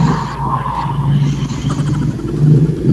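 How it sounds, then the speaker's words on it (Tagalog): Noisy road traffic with vehicles passing by, a steady car rumble and engine drone continuing for three seconds, fairly loud and close, with no speech over it. "Maingay po, sir, yung mga sasakyan na dumadaan."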